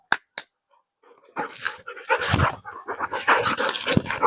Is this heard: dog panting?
yes